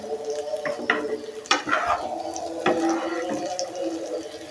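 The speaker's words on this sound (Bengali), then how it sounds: "আমি একদম এটা ভাজা ভাজা করবো ভাজা ভাজা করলে অনেক মজা লাগবে নুডলসটা" Noodles frying in a pan until crispy, a steady sizzle under repeated scraping and stirring strokes of a utensil against the pan, close and fairly loud, no talking.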